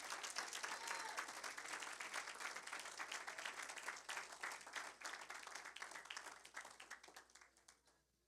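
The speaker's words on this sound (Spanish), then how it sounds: "Dele un aplauso fuerte a Cristo" A church congregation at a Spanish-language evangelical service claps loudly and continuously, a dense applause that holds steady for several seconds before tapering off at the end.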